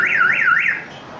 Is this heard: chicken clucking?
no